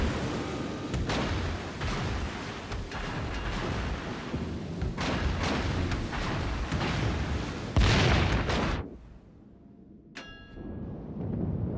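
Heavy naval gunfire in World of Warships, with repeated deep booming salvos and explosions rolling over a constant rumble, then a sudden drop to quiet followed by a brief metallic ping.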